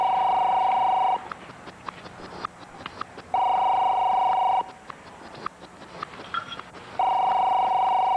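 A telephone rings in bursts, three long electronic trills separated by pauses, loud and close, while muffled voices and household noises continue in the gaps between rings.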